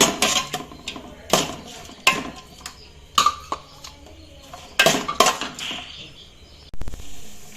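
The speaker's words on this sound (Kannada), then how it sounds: "ದೊಣ್ಣೆ ಮುಂಚಿ ಪಾಡೋಡು ಟೊಮೆಟೊ ಇದು ಚೂರು ಮಿಕ್ಸ್ ಮಾಡ್ಕೋಗ ಚೂರು ಫ್ರೈ ಆವಡು" A spoon clanks and scrapes against a pot while onion and tomato are mixed and fried for a chicken soup, giving sharp, spaced metallic knocks with quiet gaps between them.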